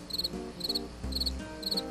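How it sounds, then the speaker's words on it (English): Crickets chirp at night in short repeated bursts, four evenly spaced trills over a low background with soft tones in between. "Pete hears an odd chirping noise. What is that? he asks out loud. Those are just the crickets."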